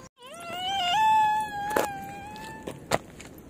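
A young child cries in a long, rising and falling wail, loud and close, with a few sharp knocks and sounds behind it.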